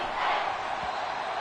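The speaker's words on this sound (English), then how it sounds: "This crowd turning up the decibel level" Stadium crowd roar from an American football video game, a loud sustained broadband wash of cheering that holds steady throughout, with no distinct voices standing out.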